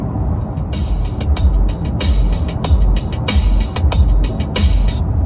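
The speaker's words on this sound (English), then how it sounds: "there's a fair old thump of that, so you definitely would know that there's a subwoofer in the boot" Deep bass from a subwoofer in the boot of a 2020 Hyundai Ioniq 38 kWh, a steady loud low-end rumble with regular rhythmic beat pulses throughout, heard from inside the cabin.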